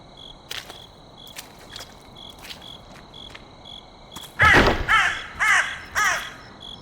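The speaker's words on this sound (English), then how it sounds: "And crows." Crows caw in a video game forest, a run of loud, close harsh calls arriving in quick succession near the end over a steady chirping of crickets and insects, with a few faint clicks earlier.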